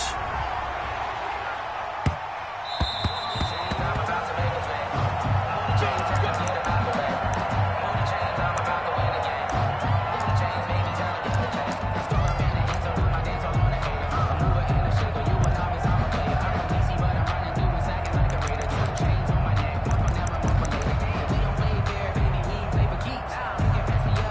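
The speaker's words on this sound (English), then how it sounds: "This crowd is ready as their guys get set to match up between the Los Angeles Rams and the Arizona Cardinals." A stadium crowd in a Rams versus Cardinals football video game roars in a dense, continuous wash of cheering and noise that swells louder partway through, with commentary talking over it.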